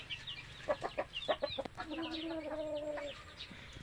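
Chickens clucking at a coop set under banana plants, several short close clucks followed by a longer drawn-out call, fairly quiet and alone.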